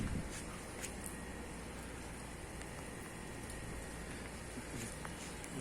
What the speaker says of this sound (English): Raining very hard.